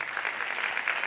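Audience applause after a Board of Finance candidates' debate, a steady even wash of clapping throughout, moderately loud and without voices.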